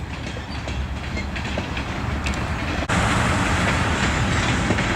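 Norfolk Southern Herzog railcar train rolling past on old jointed rail in Forest Park, on the former Central of Georgia line: a loud, steady close-up rumble and rattle of wheels that grows heavier partway through, with no talking.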